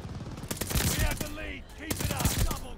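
MP40 submachine gun fire in a shooter game on a small, crowded map, heard as quick rattling bursts of sharp close shots in a dense rapid rhythm, with a voice talking over part of it.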